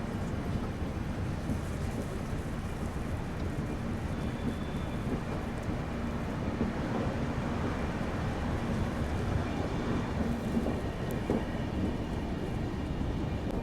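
Steady broadband rumble and hiss of a busy railway platform at Chunar Junction station, platform 2, with dense continuous noise and a faint tonal hum, no clear voices standing out.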